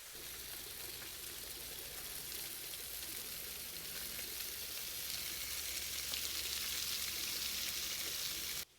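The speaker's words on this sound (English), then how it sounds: "Now let's get some crisp on those wieners." Hot dog wieners crisping in a pan give a steady, dense sizzle and crackle close up, holding even for several seconds before cutting off abruptly, with no voices.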